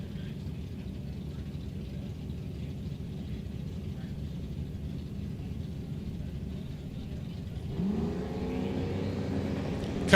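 Drag race cars, a Camaro and a boosted Mustang, rumble at the line in the street race 275 class at Sick Week 2023 in South Georgia. The engines swell sharply into a rising rev near the end, and a commentator talks over them.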